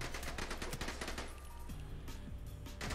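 Rapid automatic gunfire in the shooter game The Bourne Conspiracy, loud dense bursts of shots, then a short lull with mechanical clicks before another burst at the end.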